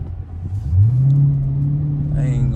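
A Dodge Challenger Scat Pack makes a light pull, its engine note climbing into a loud, rising drone that holds steady, heard close from inside the car.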